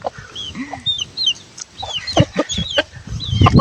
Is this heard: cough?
no